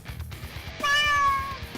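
A cat meows once in a drawn-out, clear call, set against a low steady hum of radio studio background during a sports talk show.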